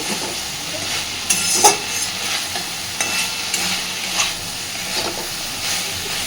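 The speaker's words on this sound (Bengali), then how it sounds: "দেখুন, সয়াবিনটাকে দেওয়ার পরে খুব ভালোভাবে আগে একটু কষিয়ে নেব" Soya chunks being stirred and fried with spices in a pan, a steady sizzle broken by several sharp spoon scrapes and clacks, close and moderately loud, no voices.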